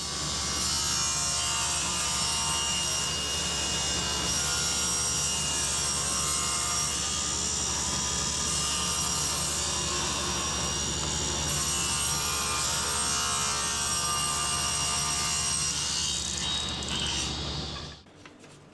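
A saw makes a rip cut along a piece of wood to trim about an eighth of an inch off a cabinet door. The rasping cut runs continuously and fairly loud for about seventeen seconds, then stops abruptly.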